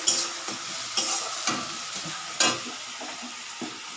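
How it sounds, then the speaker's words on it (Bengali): Leafy greens stir-fried with onion, ginger-garlic paste, dried chillies, tomato, salt and turmeric, heard as a steady sizzle punctuated by regular scraping stirs about every half second, close and unaccompanied by talk. "এখানে দেখো শাক ভাজা হচ্ছে"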